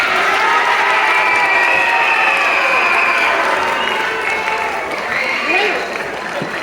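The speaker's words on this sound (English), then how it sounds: "first let's cheer for your classmates" Children in a school assembly hall for a Chinese New Year event cheer and applaud for their classmates, a loud, steady wash of clapping and shouting voices that fills the room, easing slightly toward the end.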